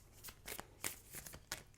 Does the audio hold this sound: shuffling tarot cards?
yes